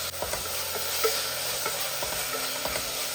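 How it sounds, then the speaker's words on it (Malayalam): Chopped onions and tomato fry in a pan, a steady close sizzle with repeated scraping stirs, no voices. "ഒരു 10 സെക്കൻഡ് ഒന്ന് ഇളക്കി കൊടുക്കാം."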